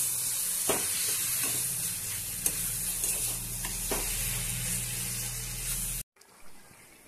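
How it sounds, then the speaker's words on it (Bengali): Fried prawns being stirred into taro leaves in a pan give a steady close sizzle with intermittent scraping strokes of a spoon, cutting off abruptly near the end before a brief faint clatter. "এবার আমি ভেজে রাখা চিংড়ি মাছগুলো এর মধ্যে অ্যাড করে নিলাম, নিয়ে আবারও খুব ভালো করে মিশিয়ে নেব।"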